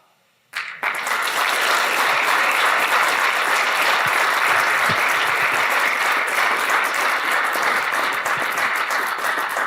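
A crowd at an RNT Foundation dinner bursts into loud, sustained applause after a brief quiet moment, dense even clapping holding at full strength to the end.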